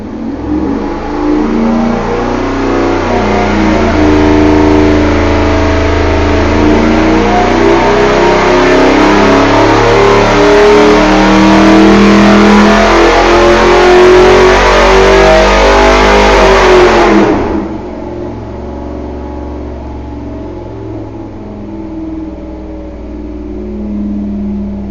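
A 383 small-block Chevy V8 on a dyno revs hard and climbs steadily for about seventeen seconds, loud and rising, then cuts off to a lower idle rumble.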